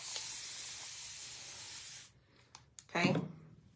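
A long, even hiss of liquid spraying from a bottle lasts about two seconds, followed by a few quiet clicks and a brief rustling burst.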